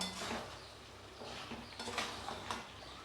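Mutton with poppy seed paste stirred and fried in a pan, with faint, close scraping and clinking of a spoon against the pan over a soft continuous frying hiss, several uneven strokes.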